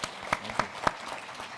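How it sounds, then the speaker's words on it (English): Audience applause at a panel discussion on reducing the riskiness of investing in Africa, a short, fairly soft burst of clapping with a few sharper claps standing out, no voices. "Please join me with a round of applause."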